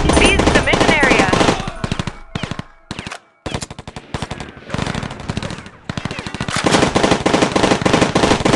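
Sustained automatic gunfire from the video game Rivals at War: Firefight, loud rapid bursts of machine-gun fire with brief pauses between volleys, dense and continuous throughout.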